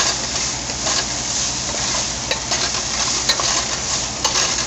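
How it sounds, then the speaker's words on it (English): Spices stirred and roasting in a hot pot for beef suka stew, a steady close sizzle with scattered light scraping and clinks of a spoon against the pot, no voices. "Mix all the spices in and you keep mixing it. So the spices get a chance to roast a little bit."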